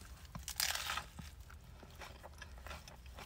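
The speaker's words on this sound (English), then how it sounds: "That instant crunch that you get from putting chips on a sandwich." A bite into a sandwich topped with mini Sun Chips gives a sharp, close crunch, followed by several softer crunches and chewing sounds over a few seconds, with no talking.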